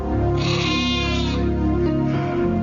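A sheep bleats loudly and continuously, a long wavering cry close by, with no other sounds around it.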